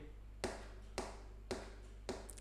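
Four evenly spaced sharp taps mark out a steady beat, about half a second apart, each a crisp close knock with a short decay over a quiet background hum.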